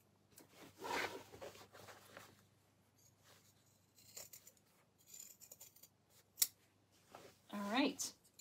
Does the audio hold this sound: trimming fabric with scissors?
yes